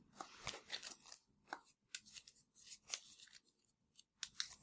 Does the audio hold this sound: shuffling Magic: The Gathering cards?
yes